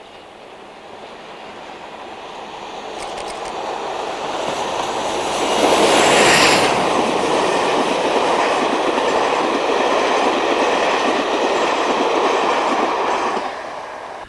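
British Rail class 47 locomotive 47822 hauling a Paignton to Glasgow passenger train near Bristol, a steady diesel drone rising as it nears and holding loud for several seconds before fading slightly at the end.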